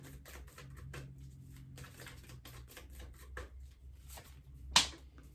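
Tarot cards riffled and shuffled in quick soft bursts, close and quiet, ending with a sharper snap of the deck.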